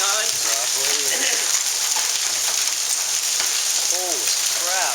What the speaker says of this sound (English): Holy crap, it's hailing.